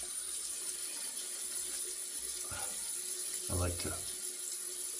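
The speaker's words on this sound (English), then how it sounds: "we'll rinse this out" Water runs from a tap as a shaving brush is rinsed out, a steady close splashing stream with brief bursts of heavier sloshing as the brush moves under it, and a few words spoken quietly.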